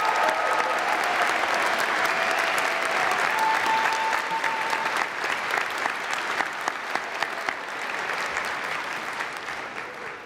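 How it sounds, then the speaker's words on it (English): A commencement audience at the New England College of Optometry gives graduates a sustained round of applause, full and steady at first, thinning to scattered claps as it fades over about ten seconds. "Please give these outstanding graduates a round of applause."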